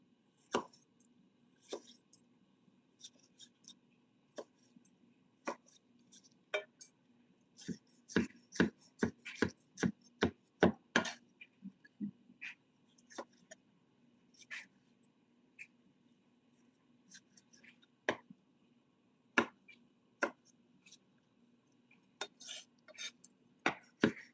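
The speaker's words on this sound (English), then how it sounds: "And then I'm going to cut from each side to get rid of the core." A knife chops a tomato on a cutting board, striking in sharp, irregular knocks that cluster into quick runs and then thin out, close to the microphone over a faint steady hum.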